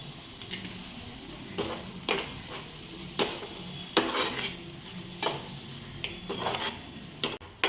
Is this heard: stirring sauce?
yes